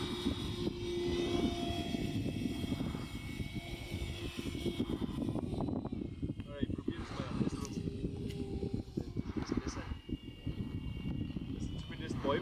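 An RC model airplane's motor, which may be developing a bearing fault, spins a 3D-printed PLA propeller at full throttle with a steady buzzing drone and some shifts in pitch as it flies, while people talk over it.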